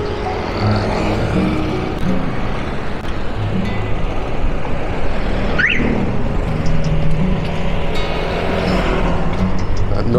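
Baht bus (songthaew) passing on a street in Jomtien, Thailand, a steady loud vehicle and traffic rumble with a brief rising whine in the middle of the passage.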